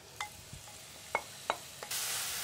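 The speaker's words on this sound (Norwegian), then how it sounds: "Så freser vi grønnsakene på 3 minutter" Vegetables frying in olive oil in a hot pan, a quiet sizzle punctuated by a few sharp clicks of stirring utensils against the pan, the hiss turning louder and brighter at the end.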